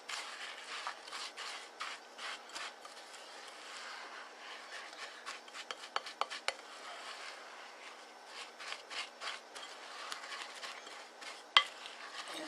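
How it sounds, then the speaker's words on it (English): A spoon scrapes and stirs through a dense, moist shredded coconut macaroon mixture in a bowl, giving close, irregular rubbing and scraping strokes with a sharper knock near the end. "Now you want to stir it just enough to get all of the coconut moistened."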